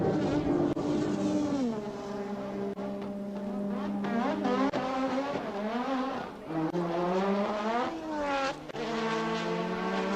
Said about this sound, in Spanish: Acelerando a fondo por el antiguo pit lane de este trazado